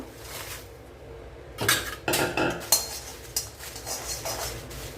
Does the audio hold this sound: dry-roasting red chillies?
yes